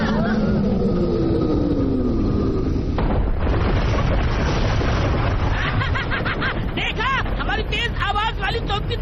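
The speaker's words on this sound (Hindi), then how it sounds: "जल्दी से वो अपनी तेज आवाज वाली तोप तैयार करो।" A cartoon sound cannon fires a heavy, roaring blast in an animated Doraemon adventure, loud and sustained for several seconds, followed by rapid crackling bursts and whooshing effects layered under a music-and-effects mix.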